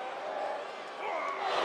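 Arena crowd noise in the WWE 2K22 wrestling game, a sustained broad roar of many voices that swells slightly toward the end, with commentary speech mixed in.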